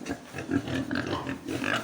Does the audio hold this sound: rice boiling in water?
no